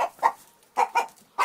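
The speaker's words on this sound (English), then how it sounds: "Chicken." A chicken clucking in short bursts, five quick clucks in an uneven rhythm, close and clear with silence between them.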